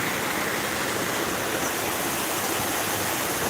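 A waterfall on a sunny countryside walk pours in a steady, loud, unbroken roar of rushing water with no voices over it.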